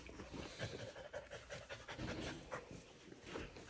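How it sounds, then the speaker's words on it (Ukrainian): A dog pants steadily and close by indoors, a continuous quick breathy rhythm, faint overall with no voices. "Такий класний собака."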